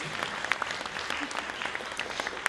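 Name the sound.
audience applause for the judges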